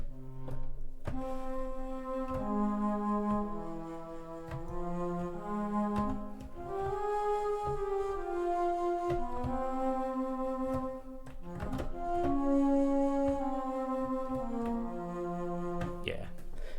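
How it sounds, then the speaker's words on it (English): A bass flute from the Spitfire Audio Studio Woodwinds sample library plays a slow, breathy low melody of sustained notes, moderately quiet and continuous, with no talking over it. "Bass flute. Let's see if I can remember how to play this."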